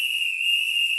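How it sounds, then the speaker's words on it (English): One steady, shrill whistle blast held for about a second, loud and close, with no voices over it. "I'm going to start off with blowing my whistle."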